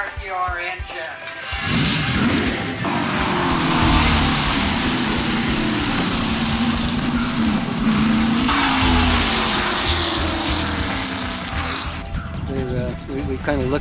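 Race car engines firing up and roaring at Havasu 95 Speedway, an asphalt racetrack in Arizona; after a short quiet start, a loud, sustained mass of engine noise rises with fluctuating revs and holds to the end.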